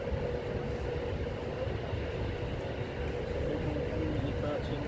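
An Avanti West Coast train rumbles past in a steady, dense low roar of wheels and carriages that holds for about five seconds, with a voice talking faintly over it.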